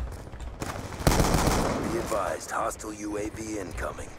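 Rapid bursts of gunfire from Call of Duty: Black Ops 2 multiplayer, loud and sustained, with a voice talking over parts of it.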